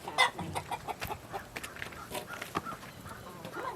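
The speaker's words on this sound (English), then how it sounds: "There's the rooster." A rooster and a flock of chickens on a farm cluck and squawk in quick, irregular bursts while being fed salad, with a close crow-like call at the start and busy pecking sounds throughout.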